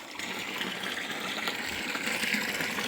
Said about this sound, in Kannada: ನೀರು ತುಂಬ್ಕೋತದೆ.